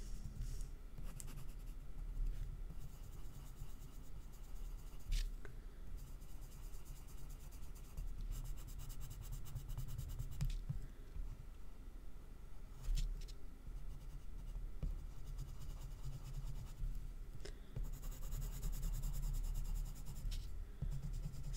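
Pencil shading on a handmade woodland card, worked in big circular motions, giving a steady close scratchy rubbing of graphite on paper that runs throughout with small pauses and ticks.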